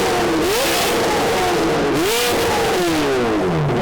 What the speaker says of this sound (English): Cars are starting to leave.